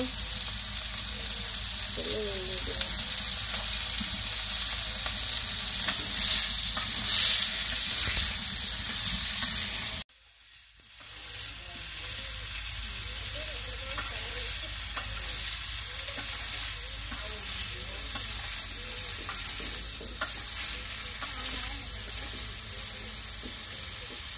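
Vegetables frying and being stirred in a pan with turmeric and salt, a steady sizzling hiss broken by a brief drop partway through, then the crackle and scraping resume close by.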